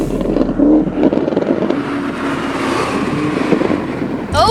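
Corvette Z06 and Camaro ZL1 cars rolling up for a second half-mile race, a steady engine drone with revving swells, a brief burst near the end.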